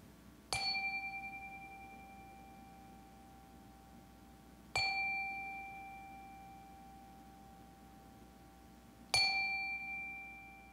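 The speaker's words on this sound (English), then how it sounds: "calm our hearts with the ringing of the chime" A chime rung three times at a Unitarian Universalist Sunday service, each clear metallic strike ringing out and slowly decaying before the next, spaced about four seconds apart over a quiet room.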